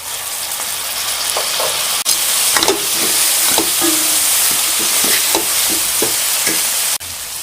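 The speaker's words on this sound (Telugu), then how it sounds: "ఇప్పుడు ఇందులోకి 2 కట్ చేసి పెట్టుకున్న టమాటా ముక్కలు వేసుకుందాం" Steady loud sizzling of tomato pieces frying in a hot pan, with scattered crackles and pops and a couple of brief scraping knocks.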